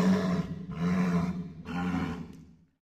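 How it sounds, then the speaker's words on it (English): A sea lion gives three loud, drawn-out roaring barks, each lasting under a second with short gaps between them, close and clear against a silent background. "Sea lion."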